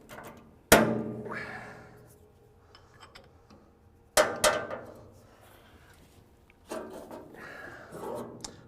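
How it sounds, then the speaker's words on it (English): Three sharp metallic clanks, each ringing out briefly, come from work with a number 14 Allen wrench on the bolt and guard of an Osako Estar trimmer machine. They are spaced several seconds apart in a quiet room. "Loosen up our bolt."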